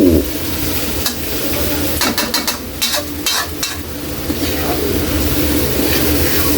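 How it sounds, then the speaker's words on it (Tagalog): Egg cooks with bitter gourd in a pan for ginisang ampalaya, a steady sizzle broken by a few quick clinks and scrapes of a utensil stirring against the pan, close and loud. "Palutuin lang natin kunti yung itlog."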